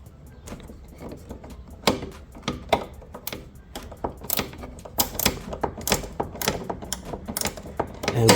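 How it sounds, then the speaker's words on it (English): An angle wrench ratcheting off fender bolts in a tight space on a 2022+ Genesis G70 during a carbon fiber fender swap: a long run of rapid, close metallic clicks that grows a little louder toward the end. "You need to take off these two bolts that are here. So I'm going in with my angle wrench here."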